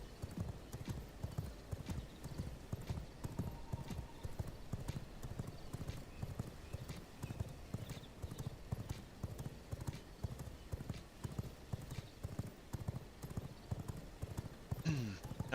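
Horses at the stables in the vampire game V Rising, with steady repeated clip-clop of hooves and a brief whinny, close and continuous over game ambience, with some talk mixed in.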